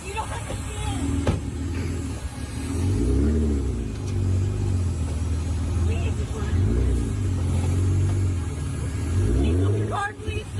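A car engine revs and rumbles through playback, rising and falling in long surges under a constant bed of talk.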